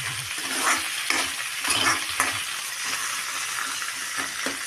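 Mango dal being stirred in a pan over heat, a steady frying sizzle with repeated scraping strokes of the spoon, close and fairly loud, with no talking.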